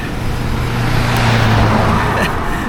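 A car passes a cyclist on a quiet rural road in Virginia, its tyre and engine rush swelling close by over steady wind noise.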